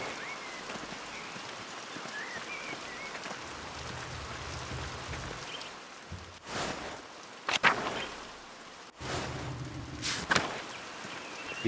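Steady rain in the video game Pentiment, a soft continuous hiss throughout, with a few sharper thuds and rustles or footsteps breaking through in the second half.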